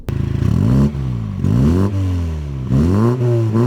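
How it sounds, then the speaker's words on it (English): A 2019 Mini Cooper S engine revs hard through several gears, its buzzy exhaust note climbing and dropping with each shift, loud and close. "you get a nice little induction sound, which makes the exhaust sound also sound quite good"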